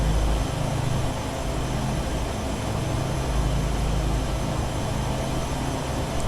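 The turbine engines of a simulated Duke twin airplane in a flight simulator game give a loud, steady, unbroken roar that fills the whole stretch from start to finish, with no speech over it.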